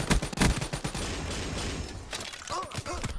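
Rapid bursts of Call of Duty: Black Ops 3 gunfire in a video game firefight, dense shots crackling over a busy battle din, with a voice briefly talking near the end.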